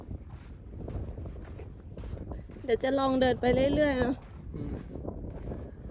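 Desert wind in Death Valley buffets the microphone with a low, gusty rumble while a person walks and talks over it.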